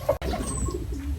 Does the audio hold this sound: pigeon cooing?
yes